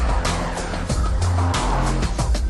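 Car engine and road noise hum loudly and steadily while the car flows through bends at legal speeds, with tyre rumble and brief surges in the drone.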